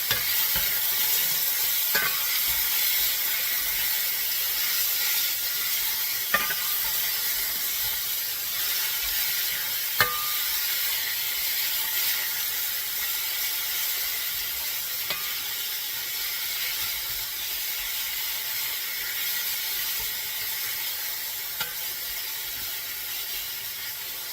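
Elk meat browns in a hot pan, giving a steady, even sizzle that runs the whole time with no talking, broken only by a few faint clicks and taps.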